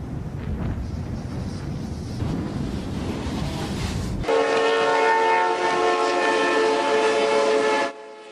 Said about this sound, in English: To ensure safe and uninterrupted train operations on snow-covered tracks, a snow-clearing train must pass through first.